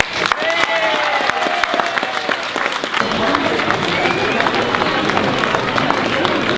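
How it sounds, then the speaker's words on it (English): A crowd at an evening workers' protest outside a Dunnes Stores shop applauds steadily, the clapping dense and close, with shouts and voices mixed in. "a round of applause to all the Dunnes Stores workers here this evening and those inside as well"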